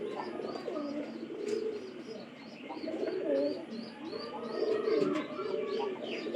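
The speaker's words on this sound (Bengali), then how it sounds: "এই যে এই কবুতরটা" A domestic pigeon coos repeatedly at close range in a rolling, rhythmic series of soft throaty calls, with faint chirps from other birds in the background.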